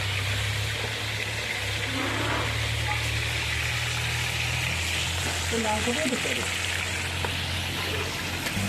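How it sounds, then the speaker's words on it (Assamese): Pieces of a large fish fry in hot oil, giving a steady close sizzle over a low background hum, with some faint clatter partway through. "এয়া মাছৰ তলতে মাছ ভাজিছে"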